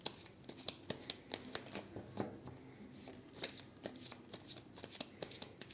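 A deck of playing cards is shuffled up close during a pick-a-card reading, with a quick train of crisp riffling flicks and soft slaps repeating steadily throughout, alone without talk.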